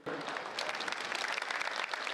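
An audience at a comic song performance claps in a short, dense burst of applause that stays steady and fairly faint for about two seconds.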